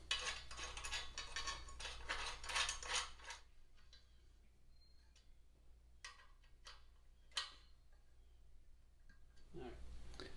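Bolts go back into a Babolat Star 5 stringing machine: a burst of rapid metallic ticking and rattling, then quieter scattered clicks and taps of metal parts, heard close at low level.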